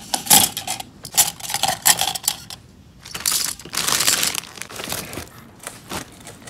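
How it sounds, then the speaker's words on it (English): Spoons are dropped into a cup while party decorations are set out, giving a run of quick metallic clinks and rustling bursts that come in uneven clusters, close and moderately loud, with no talking. "now we're gonna be putting the spoons inside this cup"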